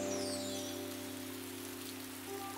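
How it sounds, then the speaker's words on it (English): Rain falling outdoors makes a soft, steady hiss that continues without break under a faint, constant hum, with no voices. "It's starting to rain again."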